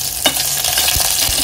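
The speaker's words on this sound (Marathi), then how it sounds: "मिरची नंतर आपण यामध्ये लसूण घातली आहे. आता हे परतून घेऊया." Chilli and garlic being sautéed in hot oil as a tempering for dal, a short burst of steady sizzling with a few stirring scrapes and clicks.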